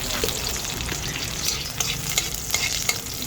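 Garlic frying in hot cooking oil in a pan: a loud, continuous crackling sizzle with stirring scrapes throughout, no voices.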